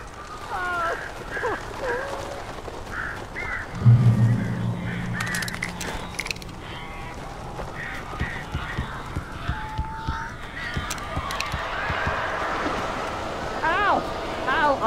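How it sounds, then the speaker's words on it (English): Birds attacking in the video game Alan Wake, harsh honking and cawing calls scattered through a busy game soundscape with a loud thud partway, while a voice talks over it. "These birds are weird."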